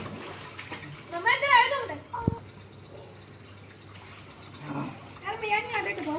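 Water runs and splashes as a pool is filled during a children's pool party, with gurgling in the background and children's and adults' voices talking loudly over it in bursts.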